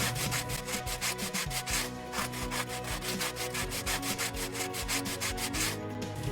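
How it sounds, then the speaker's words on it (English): Steady rhythmic back-and-forth rasping of sandpaper on a wooden edge, rapid and even strokes, close and continuous with a soft background hum. "Then we smooth the edge with some sandpaper"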